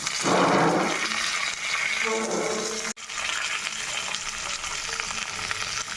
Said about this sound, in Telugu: రెడ్ చిల్లీ, అల్లం ముక్కలు మంచిగా వేయించుకొని హాఫ్ ఆనియన్స్ కూడా వేసాను ఫ్రెండ్స్